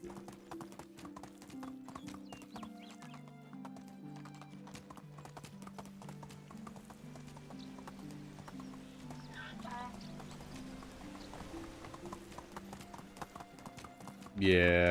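Horse hooves clip-clop steadily at a trot in the medieval farming game Medieval Dynasty, a regular rhythm over a low droning music bed, with a brief louder burst at the very end.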